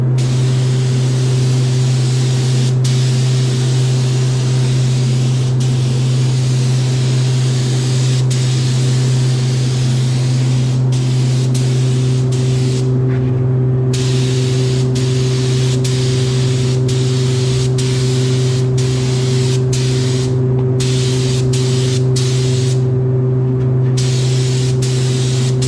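A spray gun hisses steadily while painting a Honda CRX car, with a constant low compressor hum beneath. Brief pauses cut the spray into bursts near the end, and no one speaks.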